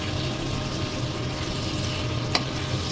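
Meat frying in its own rendered oil in a pan for a Bisaya pinakupsan dish, a steady close crackle and sizzle with one sharp pop near the end.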